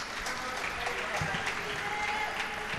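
Steady, dense applause from a crowd at the European Para Table Tennis Championships 2023, continuous and moderately loud throughout, with a commentator talking over it.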